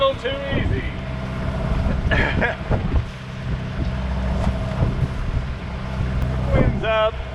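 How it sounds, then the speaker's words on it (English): Strong wind buffets a sailboat on an overnight passage from the BVI to St Maarten, giving a steady roaring rush with gusty swells and a low hum of the hull or motor underneath. "Wind's up pretty high."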